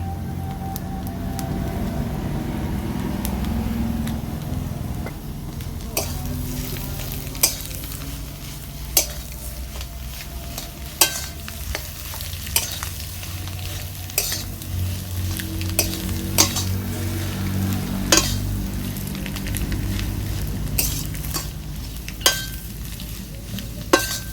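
Fried spices are stirred into a mash of raw banana, egg and potato in a pan, with a low steady sizzle under repeated sharp clinks and scrapes of a spoon against the metal, close and regular.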